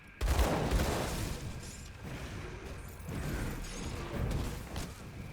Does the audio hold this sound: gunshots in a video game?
yes